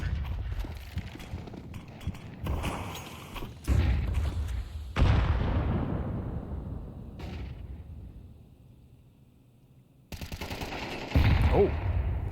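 Gunfire during a Counter-Strike match between NiP and Aurora, with repeated bursts of rifle fire and heavy bangs coming in clusters, a quieter stretch in the middle, then a renewed loud volley.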